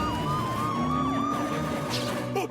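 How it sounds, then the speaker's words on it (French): Cartoon police-style sirens wail continuously in overlapping rising and falling sweeps, loud and close, with no talk over them. "tu entends ces sirènes?"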